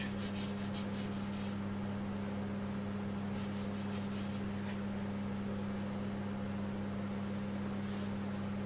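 A cloth rubbing along the edge of a large turned wooden platter as it spins on a lathe, giving a steady close scuffing swish over a constant low motor hum.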